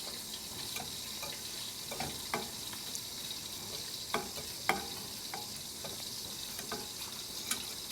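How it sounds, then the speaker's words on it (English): Tomato sauce for Hong Kong cha chaan teng pork chop fried rice being whisked as it thickens and heats, with soft scraping stirs and faint utensil taps over a steady sizzle-like hiss. "And continue whisking in the meantime."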